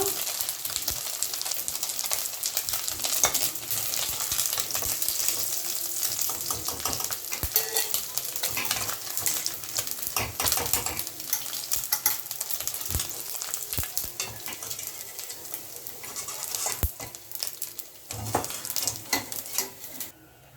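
Morola fish fry in oil in a pan while being stirred, a continuous close sizzle broken by scraping stirs and occasional clinks of utensil on metal.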